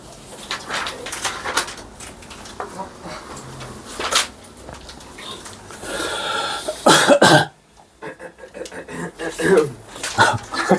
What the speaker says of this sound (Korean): 기침을 아주 길게 한다.